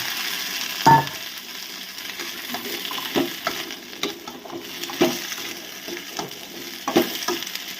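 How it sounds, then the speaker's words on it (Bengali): Okra and potatoes fried in a pan with fish roe at lunchtime, giving a steady low sizzle broken by several sharp clicks and scrapes of stirring, close and moderately loud with no voices. "মোটামুটি ভাজা হয়ে গেছে, এবার আমি আলু আর ঢ্যাঁড়সগুলো দিয়ে দেবো"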